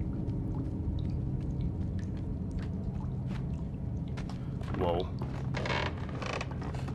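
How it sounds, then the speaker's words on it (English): Creaking in Little Nightmares, a series of scattered wooden creaks and mechanical groans over a low droning ambience, with a drawn-out creak and rasping noises near the end. "I don't like all the creaky shit, man."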